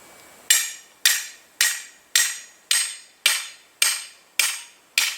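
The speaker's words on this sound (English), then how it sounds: "hammer it down not too far so that the holes are on the side" Hammer driving a steel star picker into the ground beside a cabin: nine loud, evenly spaced metallic strikes about half a second apart, each ringing briefly, with no talking.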